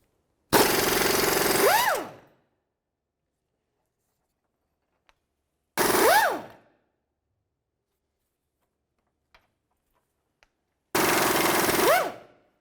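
An impact gun fitted with a 14mm socket hammers out rear engine mount bolts on a 2002-2006 Honda CR-V, three separate loud rattling bursts of about a second and a half each, spaced apart by silence.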